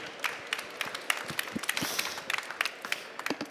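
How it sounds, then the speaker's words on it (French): Sparse, scattered clapping from a small audience at a talk event, individual hand claps sounding irregularly at moderate distance with no voices over them. "on peut vous applaudir"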